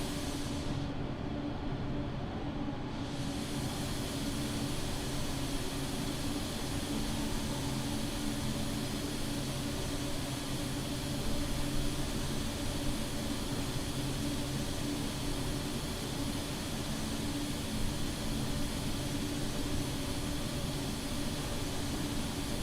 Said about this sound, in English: The sound mod is the A320neo. Latest version has updated sounds.